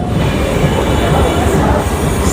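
Passenger train on the Krishnanagar–Amghata line rumbling past close and loud, a steady roar of wheels and carriages on the rails.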